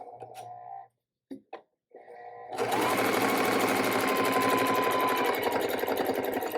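A sewing machine stitches across a drawstring bag. Brief pauses and small clicks come first, then a loud, steady whir of rapid stitching runs close by and continues to the end.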